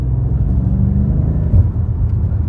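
A 2021 BMW M5 F90 engine drones in a loud, steady low rumble from inside the cabin while accelerating, with a brief deeper surge near the end and no pops.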